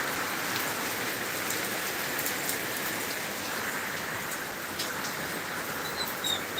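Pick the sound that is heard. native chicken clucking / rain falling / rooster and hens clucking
rain falling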